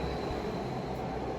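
A Delhi metro train on the blue line rumbles in a steady, low, continuous drone, a faint, even rail noise with a thin high whine on top.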